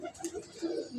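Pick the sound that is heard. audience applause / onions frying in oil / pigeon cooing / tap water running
pigeon cooing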